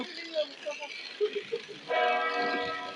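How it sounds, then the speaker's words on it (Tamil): Church bells ring from a nearby church beside an outdoor market in Brescia. Steady overlapping bell tones swell after scattered market noises and continue with background voices. "அந்த மாதா கோயில் மணி தான் அடித்து கொண்டு இருக்கு"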